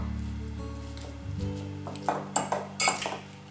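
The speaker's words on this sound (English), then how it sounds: "Then we mash our bananas." Overripe bananas are mashed in a bowl with a utensil, giving several sharp scraping clinks against the bowl in the latter half after a steady background hum.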